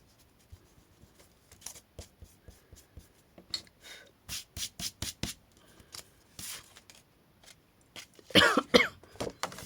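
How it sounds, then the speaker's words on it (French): A pencil eraser rubs out small guide lines on paper for a pop-up birthday card: short, scratchy strokes in an irregular rhythm, growing busier and ending in a louder, vigorous scrubbing burst. "On vient gommer les petits traits qu'on voit"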